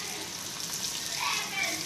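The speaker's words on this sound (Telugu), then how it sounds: "2 మినిట్స్లో రొయ్యలన్నీ కూడా వేపేసుకుంటాను. సో బాగా వేపుకోవాలి." Raw prawns fry in a pan for a prawn biryani, giving a soft, continuous sizzle and hiss that stays fairly quiet from start to finish.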